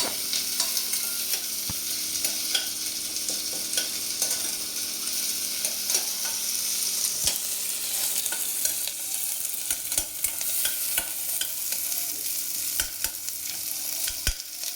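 Ingredients for ghee rice fry in a pan and are stirred, an even hiss of frying throughout with frequent sharp spoon scrapes and taps, close and fairly loud, with no voices.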